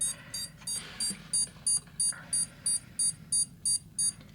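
A Lanrui M107 portable electric grinding and sharpening machine gives a safety warning that its switch must be off, a steady train of about a dozen short, evenly spaced high-pitched beeps, clear and close over a faint background hum.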